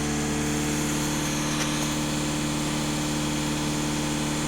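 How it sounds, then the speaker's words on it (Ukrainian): A VW Jetta 1.6 TDI diesel engine runs steadily during an adaptation routine, a close, even idle with a constant low drone and vibration, only slight shifts in tone and no voices. "Авто саме газує, автоматично вмикається спіралька при адаптаціях."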